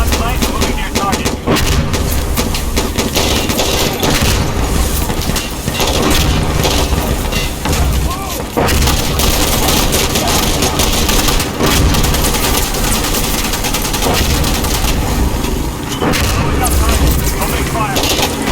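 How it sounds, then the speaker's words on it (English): Dense, loud gunfire in the shooter game Insurgency Sandstorm at night, with rapid bursts and shots layered into a constant wash of battle noise over the full length and voices mixed in. "Opening fire."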